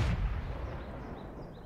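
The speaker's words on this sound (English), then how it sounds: "See if we can get some shots on this Panzer IV" A tank cannon in World of Tanks fires at a Panzer IV: a single heavy boom hits at the start, then a long rumbling decay under battlefield noise.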